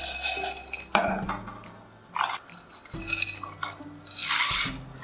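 Dry pasta clatters and clinks against a metal pot of salted water, with scattered rattling bursts and a steady background hiss.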